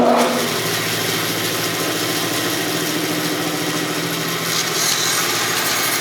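A table saw runs with a sled pushing a piece of wood through the blade, a steady whining drone with a rougher cutting rasp under it that eases slightly near the end.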